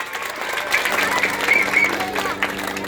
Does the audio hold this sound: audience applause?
yes